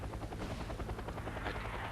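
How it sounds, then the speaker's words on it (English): A helicopter taking fire in the war strategy game Wargame AirLand Battle, its rotor chop and engine roar filling the two seconds loudly and steadily, with no voices. "Now right here this helicopter gets shot at."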